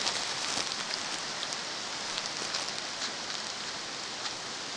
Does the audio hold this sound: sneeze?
no